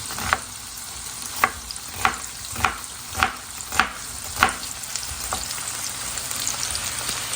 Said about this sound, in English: let all this cook together. Just a few minutes until the onion is nice and soft.